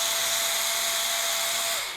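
A small dental-style power drill runs with a continuous high-pitched whine, steady and fairly close, then its pitch drops slightly as it winds down at the end, alone with no talk.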